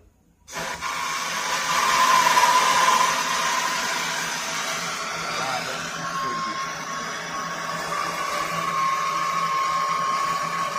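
Steady broadband roar of a torch flame heating copper and iron pipe for brazing with flux on refrigeration lines, loud and continuous throughout with no speech.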